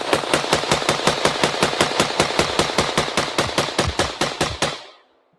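Rapid gunfire from a gun fitted with a muzzle brake, roughly two dozen sharp, loud, evenly spaced shots in a fast steady rhythm, cutting off abruptly after about five seconds.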